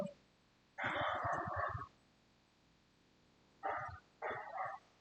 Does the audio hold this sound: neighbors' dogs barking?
yes